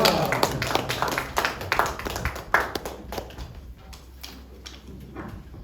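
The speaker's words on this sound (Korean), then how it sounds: "나오실 때 큰 박수로 환영해 주시기 바라겠습니다." A church congregation in Incheon claps to welcome a pastor to the pulpit. The sharp, scattered handclaps are strongest at first, then thin out and fade after about three seconds.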